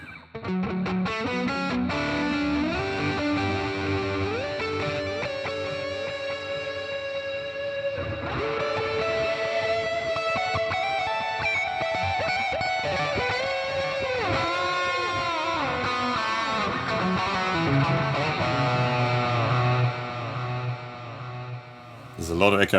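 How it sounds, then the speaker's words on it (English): Electric guitar through a Joyo Preamp House on the echo reverb setting, distorted notes and chords smeared with heavy repeating echoes, loud and sustained, with a voice heard briefly near the end. "There's a lot of echo."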